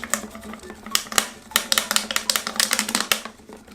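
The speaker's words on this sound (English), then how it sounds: "it might be really noisy, as you can tell from the crinkling that we have going on here" Plastic water bottle crinkling and crackling in quick, irregular bursts close by while someone colors on it, with a steady low hum underneath and no talking.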